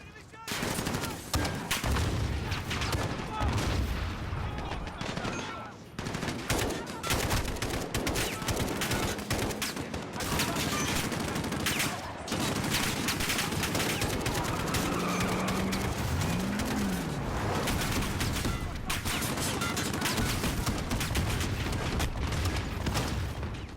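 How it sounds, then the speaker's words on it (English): Gunfire in the Modern Warfare 2019 video game campaign: dense, sustained volleys of shots roll on loud and nearly continuous, with mechanical clatter and scattered bird calls mixed into the battle. "The shooting sounds more authentic here, like there's some muscle behind each of the shots"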